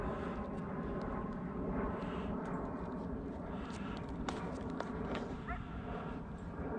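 An Aer Lingus airliner passes overhead bound for Manchester, a steady broad engine roar filling the outdoor air throughout, with faint small noises on top.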